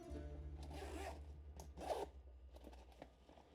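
A zipper opens a pocket on a Tenba Axis 20L V2 backpack, heard as several close, quiet rasping pulls with short pauses between them, with no talking over it.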